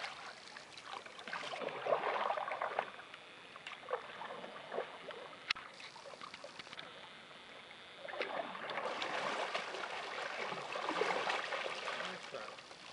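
Canoe paddling with an Ottertail paddle: steady water swishes and gentle splashes from repeated strokes, with soft trickling and drips between them, heard close up outdoors.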